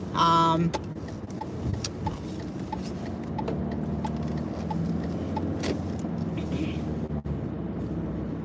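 A car drives through a Pittsburgh neighborhood with a steady engine and road hum heard from inside the cabin, a few light ticks and clicks over the drone, and a voice talking briefly at the start.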